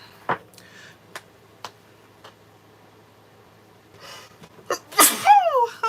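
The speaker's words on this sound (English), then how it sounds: "I don't know where that sneeze from." A single sharp, loud, close sneeze comes near the end, after a few quiet clicks and taps at a craft table.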